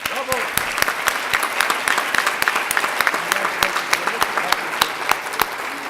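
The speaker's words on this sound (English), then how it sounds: "let's give Pete one final round of applause" A crowd at an alumni excellence award ceremony claps in a loud, sustained round of applause, with many distinct sharp claps standing out of the dense wash throughout.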